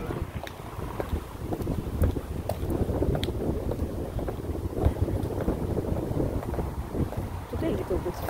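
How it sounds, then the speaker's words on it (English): Steady wind buffets the microphone in low rumbling gusts on Wilshire Boulevard, Santa Monica, with faint background noise and no clear talk. "Windy."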